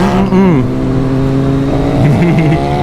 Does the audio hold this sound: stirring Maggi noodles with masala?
no